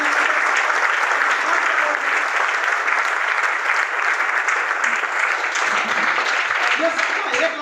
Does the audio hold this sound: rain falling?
no